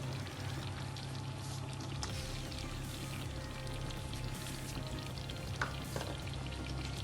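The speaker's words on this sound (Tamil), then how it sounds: "அதுக்கப்புறமா இந்த 2 கப்பு தேங்காய் பாலையும் ஊற்றிக்குவோம்." Coconut milk pours into a pan while cooking paal kozhukattai with coconut, salt and rice flour, a steady liquid rush over soft sizzling, continuous and close throughout with no talking.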